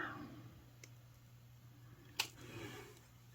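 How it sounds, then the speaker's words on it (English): Wire cutters snip extra beading wire with a sharp, faint click, then a second louder snap a moment later, both close against a quiet background hum. "So now I'm going to cut off my extra wire."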